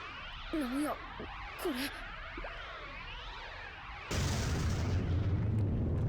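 A head-exploding blast in the Senran Kagura Burst Re:Newal fighting game lands as a sudden loud burst of noise that cuts off earlier tonal voices and holds as a sustained roar to the end.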